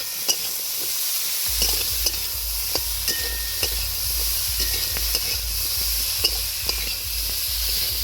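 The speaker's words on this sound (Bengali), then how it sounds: "শালগম, বেগুন, আলু তুলে দিলাম শুটকি মাছের সঙ্গে, ভালো করে সেগুলো মশলাগুলো কষে দিয়ে দিলাম" Turnip, eggplant, potato and dried fish fry with spices in a pan, making a steady loud sizzle and hiss with repeated scraping clicks from stirring, close up and without voices.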